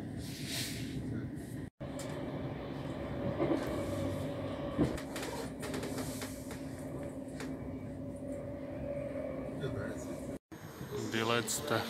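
A train pulls into Lauterbrunnen, Switzerland, with a steady, close rolling rumble, faint squealing tones and scattered clatter throughout, while voices murmur in the background.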